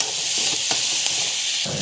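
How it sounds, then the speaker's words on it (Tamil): Onions sizzle steadily in a hot pan, a continuous frying hiss with occasional soft scrapes of stirring. "அதை வந்து வதக்கிக்கலாம். நல்லா வந்து வதக்கிக்கலாம்."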